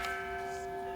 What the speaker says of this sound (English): when we hear the sound of the bell, we stop whatever we're doing and come back to our breathing